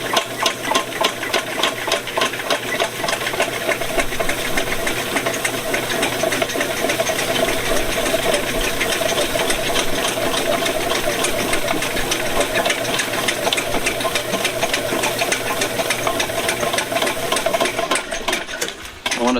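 A VEVOR 75-foot, 1/2-inch auto feed drain cleaning machine runs continuously and loud with water flowing, a steady whirring, sloshing drone that holds throughout before easing off at the very end.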